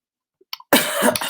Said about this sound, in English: all of a sudden I'll just start coughing